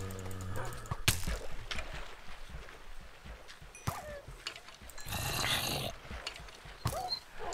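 A Minecraft wolf growls and snarls while attacking a zombie, faint gritty growls mixed with sharp hit thuds and scuffling bursts in an irregular rhythm.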